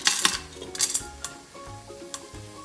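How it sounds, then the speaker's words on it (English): Whole spices go into hot oil in an Instant Pot on saute mode, with light clinks and taps of a utensil against the metal insert and a faint sizzle between them, close and fairly quiet. "Let's add these whole spices."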